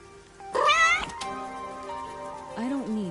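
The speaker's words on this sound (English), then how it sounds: "That's what the cat is saying." A cartoonish cat meows repeatedly in the video game Master Detective Archives RainCode, one long rising-and-falling yowl followed by a shorter meow over a soft musical background.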